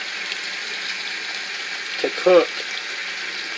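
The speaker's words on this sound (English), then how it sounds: "I'm just going to put some water in there." Tap water runs steadily into a bowl of cut cabbage being prepared for German-style red cabbage with kielbasa, a constant hiss under a brief spoken phrase.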